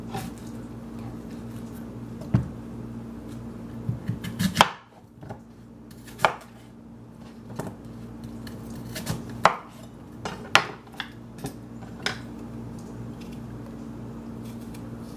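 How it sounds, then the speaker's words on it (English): Knife chopping through peeled, cored apples into half-inch slices, a series of sharp, irregular cuts and taps against a board, close and fairly quiet, with no talk. "I'm peeling, coring, and then slicing them into"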